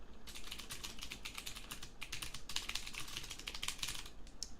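Close, steady typing on a computer keyboard, rapid clicky keystrokes running continuously with brief pauses, fairly quiet and alone with no voices.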